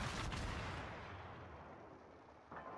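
Naval guns on the Nevsky warship in World of Warships fire in heavy, booming salvos, with a strong blast at the start and another near the end over a low rumbling fade.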